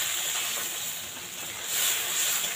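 Dry fish spice paste sautés in oil in a pan, a soft continuous sizzling hiss that swells slightly near the end, heard alone without talk.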